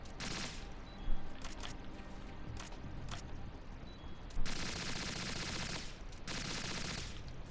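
Rapid gunfire from the video game Metal Gear Solid 2 rattles in loud, dense bursts, with short single shots early on and two longer sustained volleys in the second half.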